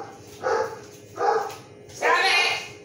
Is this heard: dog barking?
yes